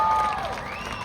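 An audience claps and cheers at a Tamil stage event in Canada, a dense, continuous wash of applause with some tonal sound underneath.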